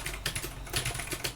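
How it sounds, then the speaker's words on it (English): Someone types quickly on a computer keyboard nearby, a quiet, irregular run of clicks during a word-processing lesson. "if I keep typing"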